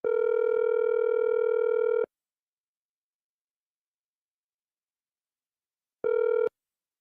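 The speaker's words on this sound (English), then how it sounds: "Tommy, we had to start making these calls from your phone." A telephone line gives a steady dial tone for about two seconds, falls silent for several seconds, then sounds a second short burst of the same tone.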